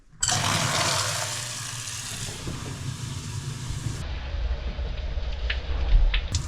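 Water rushes steadily down a newly installed black bathroom sink drain beneath a faucet, a loud, close, continuous splashing wash that carries on for several seconds with brief small clicks toward the end.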